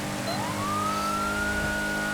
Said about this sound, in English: We'll go ahead and throw our siren on.